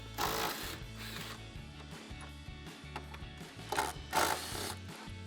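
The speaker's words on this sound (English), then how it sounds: "Grab our impact and 18mm socket, take these 2 top bolts out." An impact wrench with an 18mm socket spins out the top shock bolts on a 2024-2026 Mustang GT during a lowering spring install, giving close, loud rattling hammering with a sharper burst near the end.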